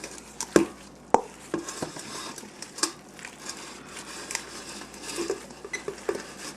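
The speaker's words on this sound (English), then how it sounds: "Getting the dregs out of the bowl." A spatula scrapes the last bits of homemade kimchi out of a bowl, giving quiet, irregular scrapes and light taps against the bowl with short pauses between strokes.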